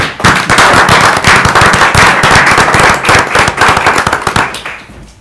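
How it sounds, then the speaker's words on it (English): A school board meeting audience gives the judges a round of applause: loud, dense clapping that fills the room steadily, then tapers off near the end. "give a round of applause for the judges."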